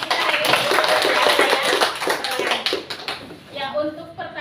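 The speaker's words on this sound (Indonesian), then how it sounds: "berikan aplaus dulu buat pemateri kita hari ini" An audience at a school session applauds with a dense wash of clapping that swells, then thins into scattered claps, with voices talking over it.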